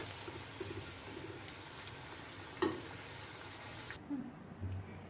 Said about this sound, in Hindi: तेल गरम हो चुका है, इसमें हम हमारे ये क्रॉकेट्स फ्राई कर लेंगे।